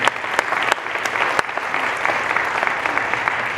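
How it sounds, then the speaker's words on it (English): Steady applause from an audience, dense clapping throughout with a few sharper claps standing out, fairly close and sustained. "let's give him a big round of applause"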